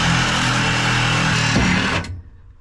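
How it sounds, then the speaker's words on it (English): A Sawzall reciprocating saw cuts through a metal compressor shell with a loud, steady, harsh buzz that stops abruptly about two seconds in, leaving a brief fading tail. "The Sawzall's putting in work"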